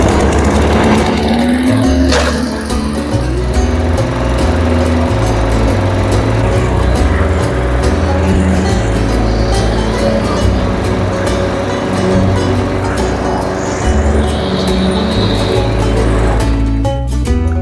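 A Murray self-propelled lawn mower engine starts on the first pull, then runs loud and steady up close, with a low, even drone and a short burst of louder engine noise near the end.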